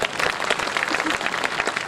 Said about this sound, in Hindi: आपकी तालियां मुझे बता दें एक बार जरा।